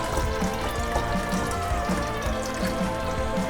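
Steady pouring of C-41 film developing chemistry back into a bottle, a continuous close-up splashing stream with faint gurgles throughout, no voices.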